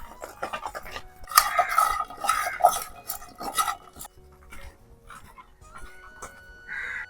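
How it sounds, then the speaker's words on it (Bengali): Fish, cauliflower and potato being mixed by hand with salt and turmeric in a kitchen bowl, giving close, irregular clinks, scrapes and squelchy rustles in bursts, with a bird cawing faintly in the background. "এবার মাছ ফুলকপি আলু তিনটাকে ভালো করে মেখে নিতে হবে"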